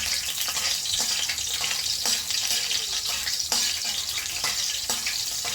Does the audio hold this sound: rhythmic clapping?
no